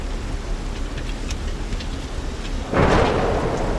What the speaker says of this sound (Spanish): Cuando la lluvia cae, no para.